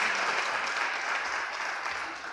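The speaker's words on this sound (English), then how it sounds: "if we could just get a quick round of applause for our panelists" Meeting attendees at a Saxapahaw traffic safety gathering applaud their panelists in a short, thick burst of clapping that starts full and slowly tapers off, with no voices over it.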